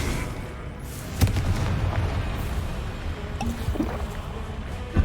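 A blasting spell detonates in a Harry Potter video game with a sharp, boomy crack, followed by a low rumbling game soundscape and a few more scattered thumps.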